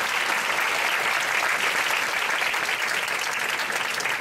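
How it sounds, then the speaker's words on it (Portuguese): Steady, dense audience applause at a panel event in Brazil, loud and continuous throughout with no pauses. "Eu quero pedir, de fato, uma salva de palmas, mais uma do nosso grande Sérgio."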